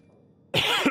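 A single harsh cough bursts in close and loud after a stretch of near silence, ending with a brief throaty catch.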